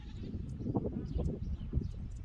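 Goats on a farm bleat faintly in a few short, wavering calls over a low background rumble, heard from some distance.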